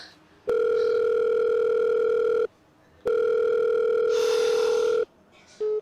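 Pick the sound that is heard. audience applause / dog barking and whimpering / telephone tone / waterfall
telephone tone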